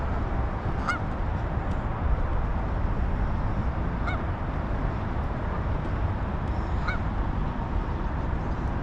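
Ducks on rushing floodwater after heavy rain give a few scattered honking calls over a constant loud roar of flowing water.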